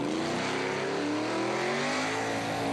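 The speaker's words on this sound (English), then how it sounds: "Gotta love the big aggressive flicks. Working the wheel. And listen to the throttle." A car's engine revs hard during a skid at Summernats, its throttle screaming loud and unbroken with a slowly rising pitch, and no voices over it.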